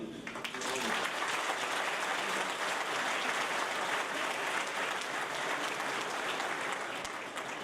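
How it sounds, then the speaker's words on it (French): A roomful of people at a mayor's New Year address claps steadily, a dense, even applause that holds at the same level for several seconds. "je voudrais qu'on puisse les applaudir"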